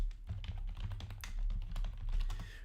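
A search is typed on a computer keyboard as a fast, close run of soft key clicks with an uneven rhythm, heard alone without talking.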